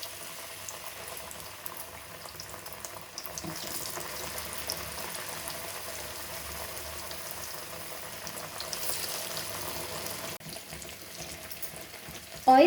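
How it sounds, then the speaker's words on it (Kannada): Masala-coated potato slices for aloo bajji frying in hot oil, a steady broadband sizzle and bubbling that holds throughout, with a faint clink near the end. "ಇದನ್ನ ನೀವು ಮಸಾಲದಲ್ಲಿ ನೋಡಿ ಈ ಥರ ನೀಟಾಗಿ ಕೋಟ್ ಮಾಡಿಕೊಂಡು ಈ ಕಾದ ಎಣ್ಣೆಗೆ ಒಂದೊಂದೇ ಹಾಕೋಬೇಕು"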